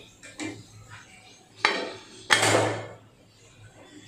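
The metal lid goes onto a pressure cooker in a home kitchen with a few sharp clanks and knocks, two louder impacts standing out, in a fairly quiet room.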